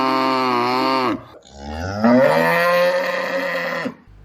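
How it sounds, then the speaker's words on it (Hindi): A cow moos twice, a long lowing call followed after a brief gap by a second, rising and falling moo, loud and close with nothing else in the background. "अब मैं तुम्हें सुनाता हूँ काऊ की"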